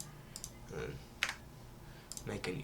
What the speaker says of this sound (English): I'm gonna type in that this is a Trisquare